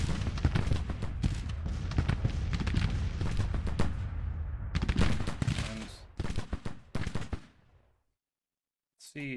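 Heavy close-range bombardment in GTCW, a Washington-under-siege battle, pounds as a dense barrage of overlapping booms and gunfire, then thins into scattered blasts before falling silent, with one last burst at the end.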